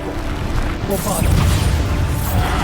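A Bombarda blasting spell in Hogwarts Legacy bursting with a loud crashing boom and rumbling debris that swells after the first second, amid busy combat noise.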